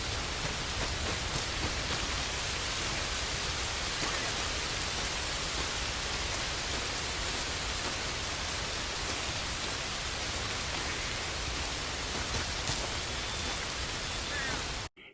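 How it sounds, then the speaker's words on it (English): Steady rain falls outdoors at a rock-carving site, a dense, even hiss of drops that continues alone without talk until cutting off abruptly at the end. "I apologize for the rain."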